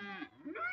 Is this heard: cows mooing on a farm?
yes